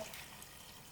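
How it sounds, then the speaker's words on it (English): Water poured into a pot of goat meat white soup (afia efere) whose meat juices have cooked dry, a faint steady splashing stream lasting about a second with no talk. "I'll add this water"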